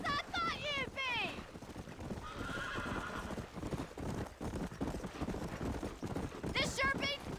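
Horse hooves clip-clop steadily in the Red Dead Redemption video game, joined by loud neighs and whinnies near the start and end, with game speech and wind layered underneath.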